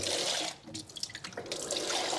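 Water runs and splashes onto the front brake components of a 2012 Ford Fiesta 1.2 Zetec petrol to rinse off spilled brake fluid, producing a steady tap-like stream with brief drips and gurgles, nearby and fairly quiet.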